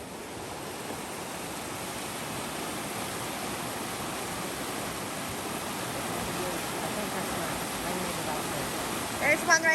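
A river flowing at the entrance to Clemens County Park, a steady broadband rush of moving water holding constant and fairly loud throughout, with a few brief knocks at the very end.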